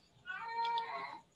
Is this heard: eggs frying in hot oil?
no